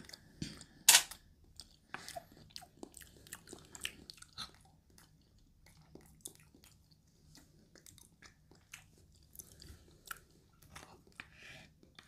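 Close-miked chewing and biting of fries in an ASMR mukbang, with crisp crunches and wet mouth clicks coming in irregular bursts and one sharp snap early on, with no talking.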